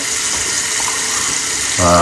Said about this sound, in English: so I'm putting cold water on my face now